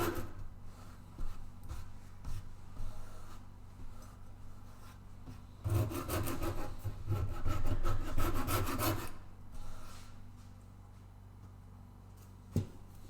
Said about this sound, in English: Now I'll just lean on my Shinto rasp